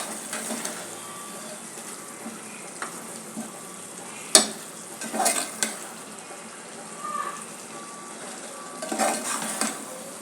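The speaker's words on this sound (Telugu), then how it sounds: "చూడండి ఎంత చక్కగా చికెన్ కూడా బాగా ఉడుకుతున్నది" Chicken cooking in biryani masala in a pot for a Kadapa-style chicken pulao, a low steady sizzle with a sharp metallic clink and a few scraping stirs, moderately close.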